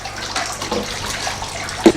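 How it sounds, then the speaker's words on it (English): Aquarium air pump bubbling water in a fish tank, a continuous watery burble with a louder bubble burst near the end. "You can see the bubbles. So it's producing oxygen."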